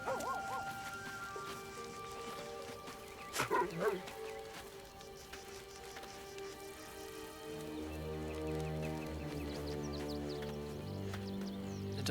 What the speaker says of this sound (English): The dog is unable to speak through the small bag he holds in his mouth.